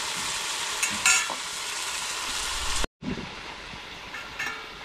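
Katla fish cooks in a little water-thinned gravy in a pan with a steady bubbling sizzle and a few utensil knocks. It is close and fairly loud, and one brief silent break comes partway through. No voices.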